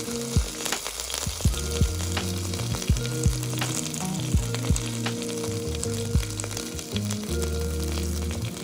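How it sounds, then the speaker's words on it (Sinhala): Crushed ginger, garlic, pandan and curry leaves frying in oil, a loud, steady close sizzle with frequent crackles and spattering pops throughout, with no voices. "දැන් මේ තලාගත්ත ඉඟුරු සුදුලෝණු රම්ප කරපිංච දාලා හොඳට ටෙම්පරාදු කරගන්නවා."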